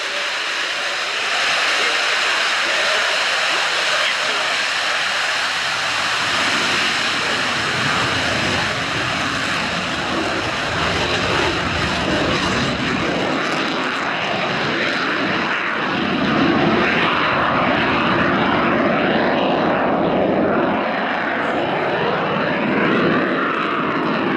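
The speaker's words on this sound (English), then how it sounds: "we'll see something of its incredible performance right from the start as it begins its takeoff roll from the right-hand end of the airfield" A Lockheed U-2 Dragon Lady jet begins its takeoff roll at the RIAT airshow, its engine roaring loud and sustained across the airfield, with crowd noise in the background.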